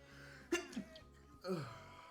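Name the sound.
sneeze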